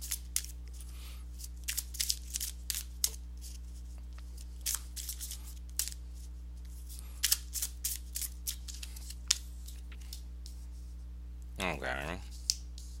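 Tarot cards are shuffled and drawn in soft, scattered riffles and flicks, close and faint over a steady low hum, ending with a brief voice.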